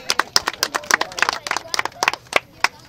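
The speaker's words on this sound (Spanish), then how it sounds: "un aplauso para Kevin." Scattered clapping from a small crowd at an outdoor sports and health fair for children, a sparse run of distinct, uneven hand claps with gaps between them and quiet chatter underneath.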